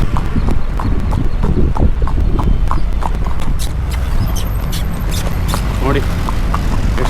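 A horse's hooves clip-clop at a slow walk down a hillside slope near Davanagere, Karnataka. The steady, close hoofbeats run throughout while a rider speaks over them.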